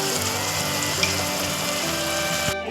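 A paste of onion, ginger, garlic and green chili sizzles steadily in a pan for a Bengali lemon chicken, with a dense continuous crackle and occasional scraping, close and fairly loud with no talk.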